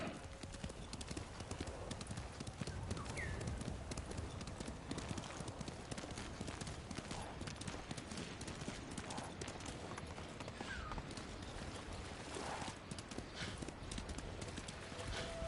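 Rhythmic clip-clop of horse hooves at a quick pace in the video game Ghost of Tsushima, continuing steadily throughout with a brief whinny partway through.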